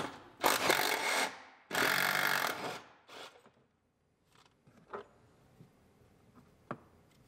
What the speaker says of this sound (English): Now we'll unbolt the bottom of our seat belts.